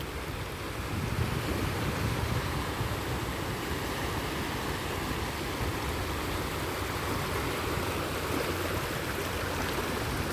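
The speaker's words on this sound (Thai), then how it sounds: "ฟังเสียงคลื่นไปด้วยนะคะเพื่อนๆ" Continuous roar of sea waves washing onto the shore in Hong Kong in the evening, a broad steady rush with wind mixed in and no voices.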